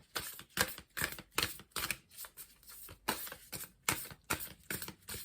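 Rapid riffling and snapping of a tarot card deck being shuffled, repeated bursts of crisp flutters in a steady rhythm, close by.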